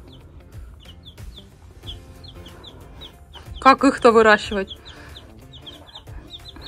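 Small chicks cheep in rapid, high, repeated peeps throughout, close by, while someone speaks softly in Russian over them in a home where a panther is meeting the new birds.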